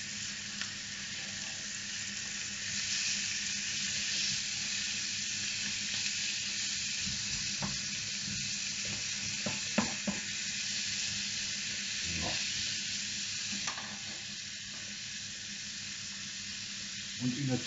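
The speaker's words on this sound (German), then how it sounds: "dann geben wir unsere Zwiebel mit hier rein und braten das in der selben Pfanne an" Onions sizzle and crackle steadily in a hot pan used for frying liver, with occasional soft stirring scrapes and clicks, close up and fairly quiet.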